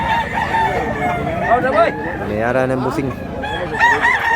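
Roosters crow repeatedly at a busy chicken market in Mantalungon, Cebu, loud and close, with clucking fowl around and someone talking over the calls.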